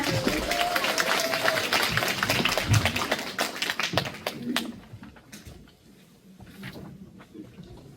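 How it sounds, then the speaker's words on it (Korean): Audience members at an evaluation meeting in a senior welfare center auditorium in Daegu clap in a dense burst that thins out and fades to scattered claps midway through. "큰 박수 한번 부탁드리겠습니다"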